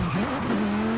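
A car braking hard in Forza Horizon 5, a short rising tire squeal that settles into a steady whine over engine noise, close and continuous.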